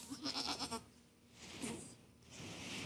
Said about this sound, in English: Goats, I done fed y'all today, okay?